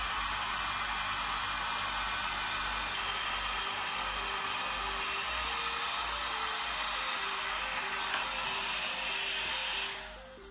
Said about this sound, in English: The heat gun doesn't work as fast, but hopefully it'll keep it from burning the plastic and turning it brown.